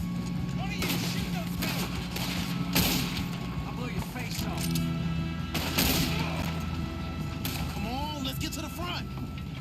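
Repeated gunfire and loud booms from a train robbery shootout in the video game Red Dead Redemption 2 are mixed with clanking machinery and engine rumble. Voices shout throughout.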